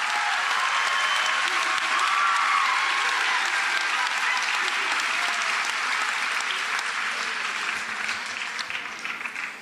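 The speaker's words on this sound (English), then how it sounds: "Give yourselves a round of applause for all that you have accomplished." Audience applause for an eighth grade class at a middle school promotion ceremony, a dense, steady wash of clapping from a large crowd that holds strong and fades slightly at the end.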